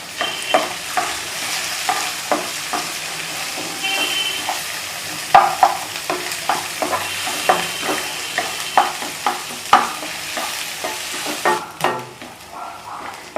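Chopped onions sizzle in a pan while cooking for idli upma, with repeated scraping stir strokes of a spoon against the pan at a steady, moderately close rhythm and no talking.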